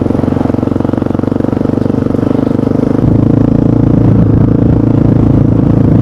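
Engine of a 2004 Yamaha Raptor 660R quad, a loud, close single-cylinder thumping drone that shifts to a deeper, heavier pulse about halfway through as the throttle changes.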